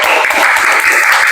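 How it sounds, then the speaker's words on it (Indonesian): Students in a Hindu religious education classroom clap for a classmate, a brief, loud, close burst of dense applause with no voices. "tepuk tangan buat temannya"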